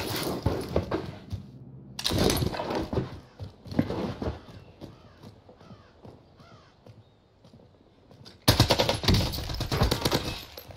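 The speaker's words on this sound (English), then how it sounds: "And they shot him." Rapid automatic gunfire in Call of Duty Warzone crackles in loud bursts with quieter stretches between them, including a final heavy volley near the end.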